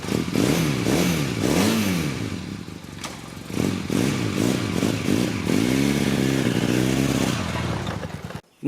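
A Honda 450 Nighthawk motorcycle engine on fresh spark plugs, ridden around a yard and along a road, loud and close with repeated rising and falling revs and some clatter, cutting off abruptly near the end.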